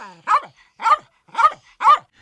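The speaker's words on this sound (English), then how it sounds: "Lucky barked happily" A dog barks happily four times in an even rhythm, each bark loud and close with a brief whine just before the first, used as an audiobook sound effect.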